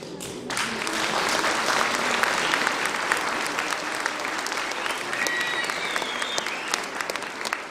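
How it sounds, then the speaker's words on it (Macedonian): Sustained applause from a concert audience at an annual folk ensemble concert in Demir Hisar, steady dense clapping filling the whole stretch, loud and continuous without pause. "ќе барам еден аплауз од вас за мајстро Благоје Груевски"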